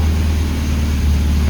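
Engine of an old Pontiac or Renault just after a cold start with the starter button, running rich on the choke with a loud, deep, steady idle close by, and a voice briefly over it.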